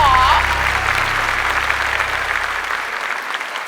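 Studio audience on a Thai celebrity competition show bursts into loud, sustained applause that gradually thins out over a few seconds, with a brief voice cutting in at the start.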